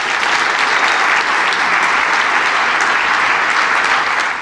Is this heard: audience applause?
yes